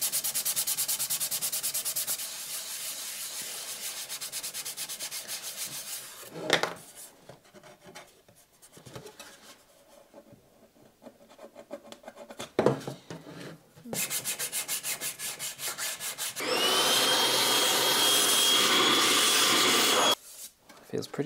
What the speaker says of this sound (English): we'll just hit it with a sanding stick real quickly